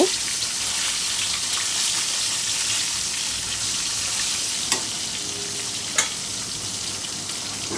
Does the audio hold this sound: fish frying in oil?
yes